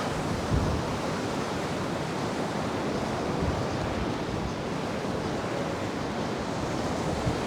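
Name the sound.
wind at the Paphos seafront during Storm Byron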